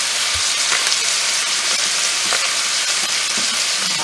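Sausage sautéing in a hot pan gives a steady, dense sizzle that fills the whole stretch, broken by a few soft scraping taps of stirring.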